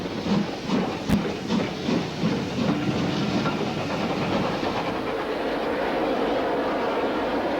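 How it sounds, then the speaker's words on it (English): A Midland compound steam locomotive leads a preserved train away from a stop on a branch line, with rhythmic chuffing at first that gives way to a steady, continuous rumble of rolling stock. "The train then set off down the branch with the compound leading as before."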